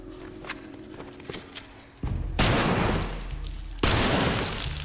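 Two loud, sharp gunshot bursts in The Last of Us with noisy crashing tails, preceded by quieter tapping footsteps and a low hum.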